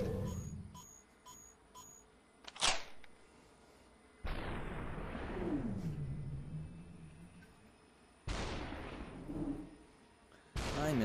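Several separate gunshot bursts ring out in the Superhot demo game, loud sharp cracks spaced a few seconds apart, each trailing off into a decaying rumble.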